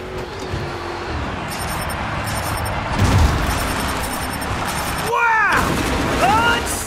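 Grave Digger monster truck revving in the video game Monster Jam Showdown during a freestyle run, a steady loud engine roar with a heavy thump near the middle, under an excited commentator's voice and crowd noise.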